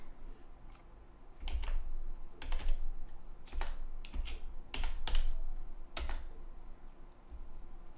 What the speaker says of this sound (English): I go to code view and I type in a div start tag right here.